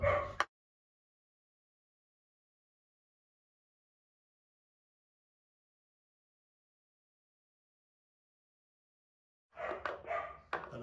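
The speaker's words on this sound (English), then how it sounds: "Excuse the dog." A dog barks briefly at the start, followed by a long stretch of silence, then another burst of barking near the end.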